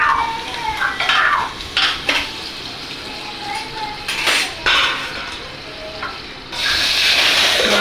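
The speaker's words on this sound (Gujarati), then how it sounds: "રાઈ જીરું નાખી દીધું છે લીમડું નાખી" Mustard seeds, cumin and curry leaves sizzle in hot oil as a tempering for dal, with a steady frying hiss, clinks of a metal spoon against the pan and some talk.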